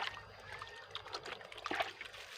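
Water trickles and splashes gently as a red-fleshed Taiwanese guava is rinsed outdoors, a faint, uneven running stream with small dribbles and a few brighter splashes near the end.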